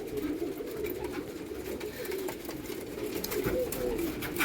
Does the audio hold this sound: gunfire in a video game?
no